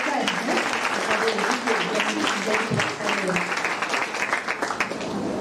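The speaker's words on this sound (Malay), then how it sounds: "kita beri tepukan kepada" Audience applause fills a hall at a secondary school graduation ceremony, a steady dense clapping that continues for several seconds with a voice heard over it.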